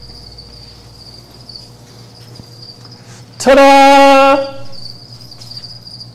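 Crickets kept as zoo feed chirp in a steady high trill throughout, briefly overwhelmed by a loud harmonic exclamation from a person's voice before the chirping resumes.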